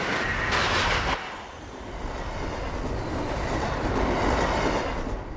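An Amtrak Acela Express high speed train rushes past, a loud broadband roar with rail rumble that surges, dips briefly and then builds again.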